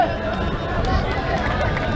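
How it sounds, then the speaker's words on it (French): Supporters of ASC Bok Jom cheering at a navétane football match, a dense, loud crowd roar with babbling voices that holds steady throughout. "On entend l'acclamation des supporters de l'ASC Bok Jom."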